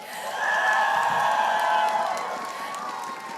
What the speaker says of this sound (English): a lot of people are cheering for you.